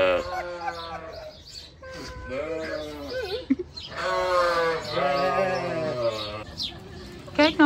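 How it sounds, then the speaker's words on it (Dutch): A goat bleats at a petting zoo, giving several wavering, drawn-out bleats close by, with voices in the background. "Kijk nou even naar dit geweldige geitje."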